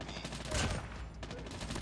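A KN-44 assault rifle fires in Call of Duty Mobile: dense, rapid automatic bursts that blend into a continuous rattle, with one louder burst in the middle, set within busy game noise.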